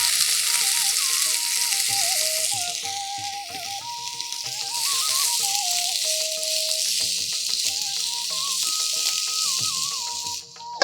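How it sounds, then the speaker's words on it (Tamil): Cut potatoes frying with curry leaves in a pan, sizzling steadily while a spoon stirs them with repeated scraping, under continuous instrumental music for the whole stretch. "உருளைக்கிழங்கு கட் பண்ணி வச்சிருக்கோம், அதை சேர்த்துக்கலாம்"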